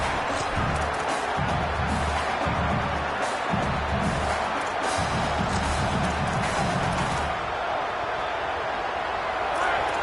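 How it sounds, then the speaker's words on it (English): Crowd roaring at a football game in a college football video game featuring Texas A&M, a dense continuous wash of stadium noise throughout with commentary talking over it. "The roar of the crowd trying to fuel this defense to keep them pinned in their own end."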